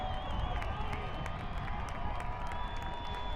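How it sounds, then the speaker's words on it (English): Stadium crowd cheering and applauding after FC Tucson score a late goal in a USL League One playoff against Richmond Kickers, a steady, loud roar with scattered claps throughout. "the crowd here erupting in applause"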